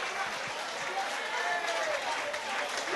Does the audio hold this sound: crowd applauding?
yes